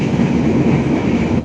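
The KA Singasari economy passenger train rolls into Karawang station as a loud, close, steady rumble of wheels and carriages, with a faint rhythmic clatter and no speech.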